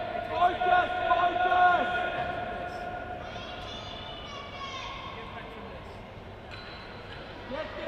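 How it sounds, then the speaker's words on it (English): Spectators at a broomball national finals match in Australia shout out the time remaining, a loud crowd call rising over the arena murmur and then fading into steady background chatter. "you heard from the crowd there as the call comes out"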